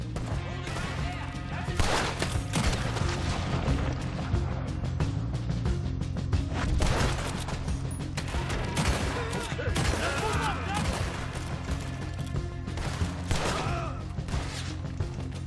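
Pistol gunfire from a shootout in Red Dead Redemption 2 bursts out as loud, rapid, overlapping shots and crashes that continue for the whole stretch, with voices shouting now and then beneath the barrage.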